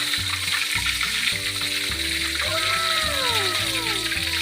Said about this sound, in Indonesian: Setelah menggoreng bebek,